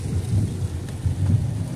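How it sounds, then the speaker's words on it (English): Steady outdoor rain pours down in a dense, continuous wash with a low, rumbling undertone, heard loud and close without any voices. "It's raining, it's pouring."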